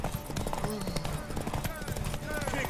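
Horse hooves clip-clop steadily with a brief whinny in The Witcher 3 video game, set under game music and background voices.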